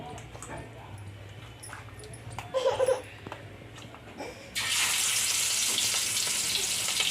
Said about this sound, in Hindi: तो हम लोग इसमें फिश डालेंगे फ्राई के लिए।